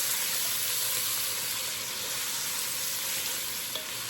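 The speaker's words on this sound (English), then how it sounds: "I want them to saute a little bit because there's already seasoning in the andouille" A large diced sweet yellow onion sautés with andouille sausage in a pan turned down to a low setting, giving an even, continuous close-up sizzle and hiss with no talking.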